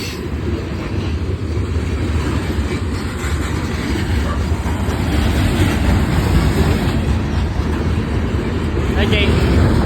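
A real freight train rolls through downtown Cowan, Tennessee, a loud, steady rumble and rattle of rail cars that swells slightly as it passes close by, with a person speaking briefly over it.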